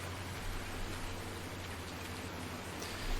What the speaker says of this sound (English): The rain is stopping though.